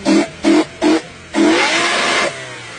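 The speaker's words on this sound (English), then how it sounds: "Timmy, pop a clip in of what an ITB sounds like revved out." A car engine fitted with individual throttle bodies blips three times in quick succession, then revs up hard and holds a long, rising wail before dropping off, loud and close with no talk.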